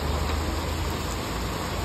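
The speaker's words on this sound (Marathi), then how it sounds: "फुल पाऊस चालू आहे." Heavy rain pouring steadily outside a house, a dense continuous hiss with no distinct drops or voices.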